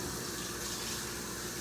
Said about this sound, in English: I'm just gonna rinse these off